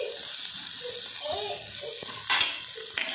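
A spoon stirs a crumbled paneer mixture in a pan with faint, soft scraping and a low sizzle, then two sharper scrapes near the end. A little speech is faintly audible in the background.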